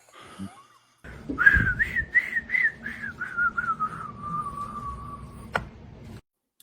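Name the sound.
person whistling a show tune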